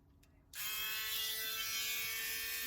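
A small handheld rotary motor tool grinds excess resin off a resin figure, starting abruptly after a brief quiet moment and then holding a loud, steady high-pitched whine close up.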